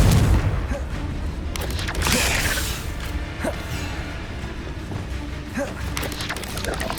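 Confringo explosive curse blasts in the Hogwarts Legacy video game, a loud booming burst at the start followed by another swell and a dense rumbling, crackling clatter of game effects.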